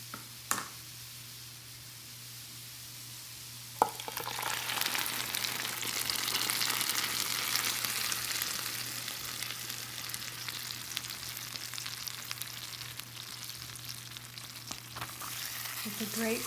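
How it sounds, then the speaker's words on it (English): Tomato sauce is poured over meatballs in a hot pan for spaghetti squash with meatballs. A quiet lull gives way to a steady hissing sizzle with soft stirring scrapes, close and moderately loud, with no talking. "And now I'm going to add the tomato sauce."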